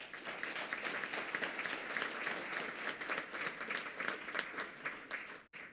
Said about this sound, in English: Let's give these folks a round of applause.